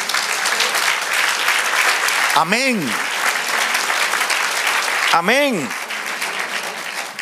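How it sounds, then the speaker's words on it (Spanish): A church congregation claps for the Lord in steady, dense applause throughout, broken twice by a voice calling out over the clapping. "Dale un aplauso al Señor."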